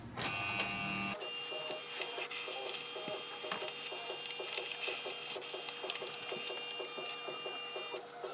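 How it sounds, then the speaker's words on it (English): Canon Pixma TR4540 printer scanning a page, a steady mechanical whir with rhythmic ticking and a constant high tonal hum running throughout, close and alone. "hit the scan button and wait for the printer to do the scanning"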